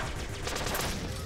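Cannon and missile fire in the video game Flinthook bursts in a rapid cluster of loud blasts, densely overlapping for about a second with no talking.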